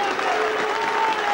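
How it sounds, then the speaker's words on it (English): A rugby league crowd at a Whitehaven versus Salford match claps and boos as a tackle is made, a dense, steady roar of applause and jeers filling the ground throughout without pause. "the applause and the boos ring out"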